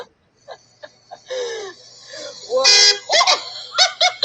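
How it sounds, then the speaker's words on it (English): A car horn honks in an old home video filmed in Utah, giving a few short, loud blasts that sit among nearby voices and background sounds. "She's walking to us, and I honk and scares the crap out of her."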